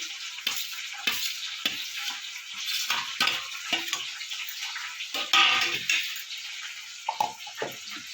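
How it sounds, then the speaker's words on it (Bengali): Capsicum and cashews frying in a pan with a steady, close sizzle, broken by repeated scraping stirs of a spatula. "ক্যাপসিকাম আর কাজুটা আমার ভাজা ভাজা হয়ে গেছে"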